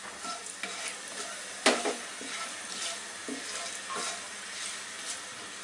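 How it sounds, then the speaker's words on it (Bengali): Bay leaf, cardamom, cinnamon and clove crackle in two to three spoons of hot oil in a kadai, a steady sizzle under stirring with a sharp utensil knock near the start. "আমি একটা কড়াইয়ে 2-3 চামচ তেল গরম দিয়ে এর মধ্যে একটু গরম মশলার ফোড়ন দিব"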